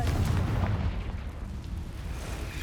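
A deep, rumbling blast from the Confringo fire spell in Hogwarts Legacy fills the moment, a heavy low boom that decays over a couple of seconds.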